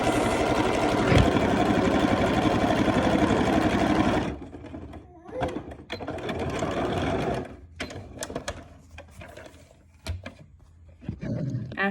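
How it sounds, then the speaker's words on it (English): Sewing machine stitching the seams of a cloth face mask, a steady close whir for about four seconds, then shorter stop-start bursts of stitching with quiet pauses between. "after you sew each seam allowance, you're gonna take them and you're gonna trim the edges"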